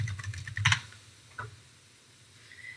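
A quick run of keystrokes on a computer keyboard, soft clicking taps close by, followed by a single isolated key press and then near silence.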